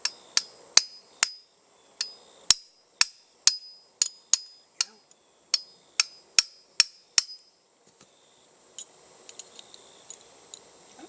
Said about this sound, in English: Pin punch and a hammer.